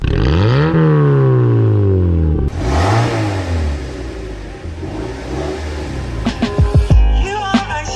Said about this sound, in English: Let's give it a little rev to hear it.